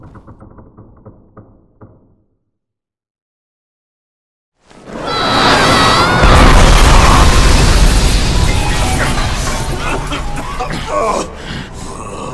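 Tanks explode in Bulletstorm: after a brief quiet gap, a massive, loud blast erupts and roars on for several seconds as a dense, sustained wall of fiery debris and rumble.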